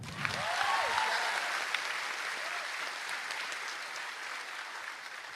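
A crowd at a political rally claps steadily in a broad wash of applause that starts strong and gradually thins, with a few brief voices and whoops cutting through near the start.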